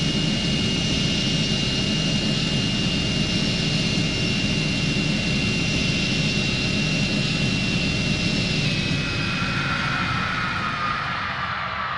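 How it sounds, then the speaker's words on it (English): A fixed-wing airplane engine in the PS5 flight game Airplane Flight Simulator Evo gives a steady, loud jet-like roar that runs for the whole stretch, a high whine easing slightly near the end, with no talking over it. "the sounds of the plane are very realistic, which is a nice touch."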